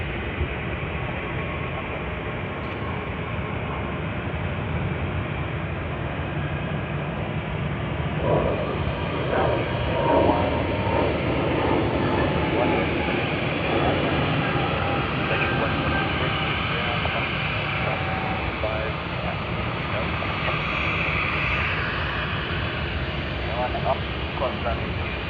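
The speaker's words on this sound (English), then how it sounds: "Let's capture Malaysia Airlines A330-900." Malaysia Airlines A330-900 airliner at Sydney Airport, a steady broadband engine roar sustained at moderate level throughout, with faint voices beneath.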